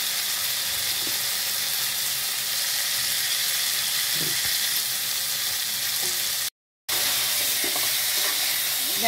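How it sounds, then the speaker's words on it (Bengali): Cauliflower curry stir-fried in a pan, a steady close sizzle with faint scraping stirs throughout; a brief gap of silence falls near the end before the frying resumes. "ভালো করে কষিয়ে নিচ্ছি"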